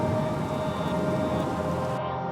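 Heavy rain in a thunderstorm, a dense, steady hiss of downpour filling the whole space, loud and unbroken, with no talk.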